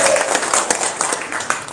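A room full of women in an audience bursts into brisk clapping, steady and fairly close, with some voices mixed in.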